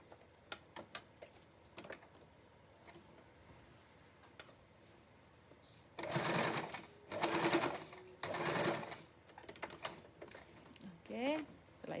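Sewing machine stitching the folded corner of a king-size fitted bed sheet, heard as three short loud whirring bursts of running stitches near the end, separated by pauses, with soft clicks and handling noises before them.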